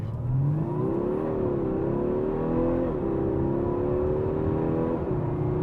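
A 2024 Audi A5 Sportback accelerates hard from 0 to 60 in dynamic mode. The engine drone rises steadily, with distinct gear shifts around 1.7, 3 and 5 seconds, heard loud and close from inside the cabin with no speech.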